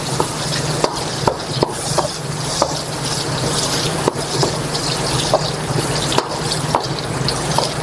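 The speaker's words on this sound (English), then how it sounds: "Once your bacon is cooked all the way, we're going to drain some of that bacon fat" Bacon sizzling and liquid fat sloshing in a wok while it is tilted and drained, a dense hiss with small clinks and scrapes recurring throughout.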